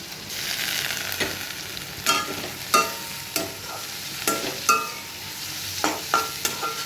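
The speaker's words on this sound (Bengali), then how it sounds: "এবার এই মশলাগুলোকে অনেকক্ষণ ধরে কষাতে হবে" Garlic and ginger spice paste frying in a pan with onions for a Bombay duck fish dish, a low steady sizzle broken by repeated sharp scraping stirs every second or so, close by, with no speech.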